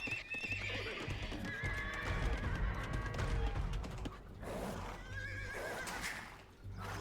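Horses neigh and whinny amid clip-clopping hooves and busy battle noise in a medieval strategy video game, with the calls repeating over a dense, steady background mix.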